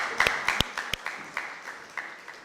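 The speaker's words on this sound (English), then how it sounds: "Let's give him a round of applause" Sparse clapping from an audience at an International Day of the African Child event, a handful of distinct sharp claps tapering off into quieter scattered ones, fairly faint and without speech.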